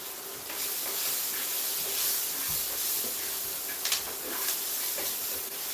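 Chopped garlic hits a hot pan that already holds ginger and onions, giving a steady broadband sizzle and hiss that runs nonstop, loud and close, with faint clinks of stirring.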